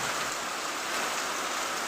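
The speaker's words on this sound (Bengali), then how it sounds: "আর আমাদের এখানে প্রচণ্ড বৃষ্টি হচ্ছে" Heavy rain pours down outdoors in a steady, dense hiss of drops hitting surfaces, uniform and unbroken with no voices.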